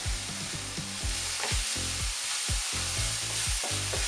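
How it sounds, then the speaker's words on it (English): Mushrooms sautéing with parsley and salt in a pan make a steady, close sizzle and crackle, with some faint stirring and scraping and no voices. "My mushrooms have been sauteing for 1 or 2 minutes and they look perfect"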